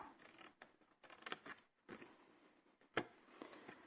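Scissors cut through material for a handmade chocolate gift box, giving a few faint, close snips and rustles in a quiet room.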